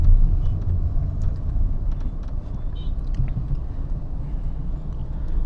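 A Citroen C3 driven through afternoon city traffic in Bengaluru, with a steady low engine and road rumble inside the cabin and faint traffic noise around it, and no one speaking.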